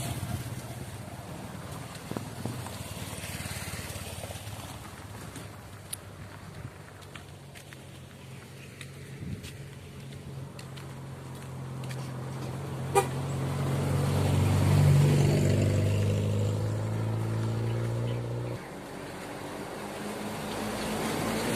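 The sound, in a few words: many vehicles passing by on the road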